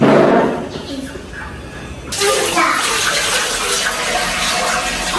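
Water poured over newly laid floor tiles in a house, a loud gushing splash that starts abruptly and keeps rushing steadily, with voices talking faintly before it begins.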